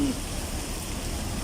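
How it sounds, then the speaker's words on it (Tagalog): Steady rain falling in Batangas, a dense continuous hiss of drops with no breaks and a low rumble beneath, fairly loud and close, with no talk over it. "Umuulan dito guys sa Batangas guys oh."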